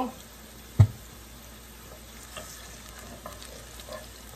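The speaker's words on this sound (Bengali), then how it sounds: "একটু জিরা ফোড়ন দিয়ে দিব" Cumin seeds sizzling in oil with onion for tempering, a soft, low hiss throughout, broken early by a single sharp knock of a utensil.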